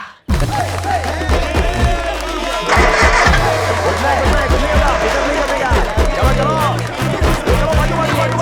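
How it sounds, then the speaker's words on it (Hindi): An old car's engine cranks and catches, then runs at a steady mid-pitched idle with some revving, loud and close throughout, while people talk over it. "हमारी गाड़ी चालू क्यों नहीं की है?"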